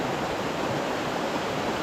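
Steady rushing flow of a clean river, a continuous close wash of water with no pauses and no voices.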